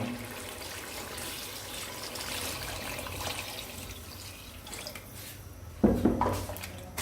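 Water trickles and splashes steadily into a pot of egg curry masala, fairly quiet and close, with a brief louder clatter near the end.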